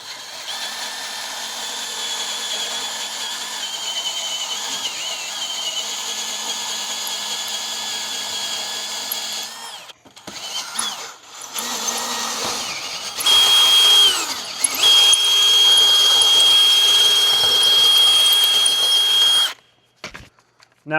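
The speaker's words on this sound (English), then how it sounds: "Okay, 3/8 drill bit is the magic number." A power drill with a 3/8 drill bit bores into a rear wheel bearing on a 2007-2011 Honda CR-V FWD: a loud, steady whine runs for about ten seconds, then stutters, resumes with a higher tone, and cuts off.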